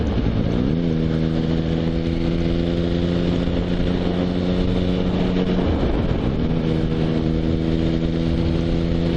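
A motorcycle engine pulls steadily through the gears on an open road, up into top gear around 60 mph at 3,000 rpm, its loud, continuous harmonic drone dipping briefly with a shift before climbing again, with wind rush throughout.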